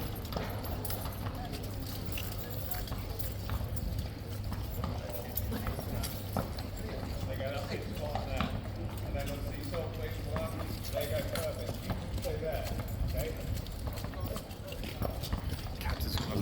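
Horses of the King's Guard stamp and clatter their hooves behind the scenes before the Elizabeth Cup, with steady close clip-clop and shuffling over a constant low hum while people talk nearby.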